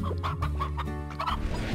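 A chicken in the video game Slime Rancher clucks in a quick series of close, loud calls over a steady low droning background.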